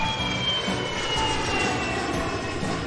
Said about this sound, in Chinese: 飞机